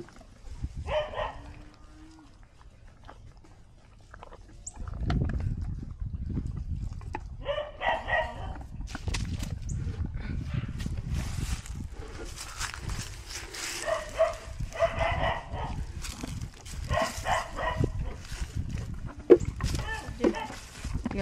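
A dog barks in several short bursts, close and moderately loud, scattered among people talking and shuffling noises.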